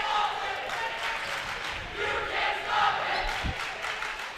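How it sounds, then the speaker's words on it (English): A crowd at a high school boys' basketball game against Chatfield cheers a made free throw, a broad, sustained roar that swells and holds at moderate volume throughout. "Crowd loves it."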